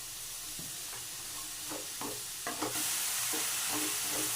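Mushrooms sauté in a non-stick pan with a wooden spoon, a steady soft sizzle broken by repeated scraping stir strokes, close and clear with no talk.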